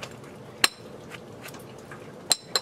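Sharp glassy clicks from knapping TV screen glass, two crisp strikes standing out against a quiet background with a few fainter taps between them.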